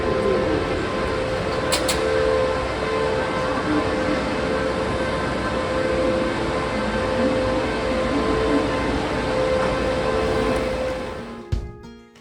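Interior rumble of a train travelling from Madrid to Cordoba in Spain, a steady loud hum with a sustained tonal whine running throughout, fading out at the end.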